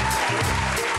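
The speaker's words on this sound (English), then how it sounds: "Big round of applause for her." Audience applause for a guest singer at a live show, a dense, loud burst of many hands clapping close together, filling the whole moment without pause.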